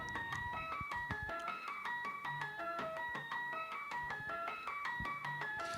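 AI-generated music in Thai tuning from Stable Audio: bright plucked, mallet-like melodic notes repeat in a steady pattern with soft low thumps, played continuously at an even level with no voices.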